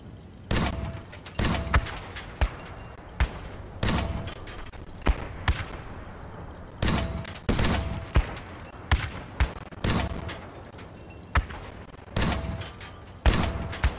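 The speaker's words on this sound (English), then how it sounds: "The Retro, like, shoots these like a volley of like 4 grenades at distance." Retro weapon in the video game Crossout launching volleys of four grenades at distance, sharp repeated blasts in clustered bursts with brief gaps, loud and close, no talk over them.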